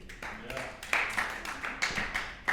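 A comedy club audience snapping fingers in response to a stand-up comic, a scattered crackle of many small sharp snaps spread irregularly through the room, with a few louder pops standing out over faint murmuring.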